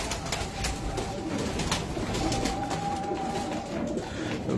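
Pigeons coo on a rooftop loft, a steady layered cooing from several birds close by against a constant noisy outdoor background.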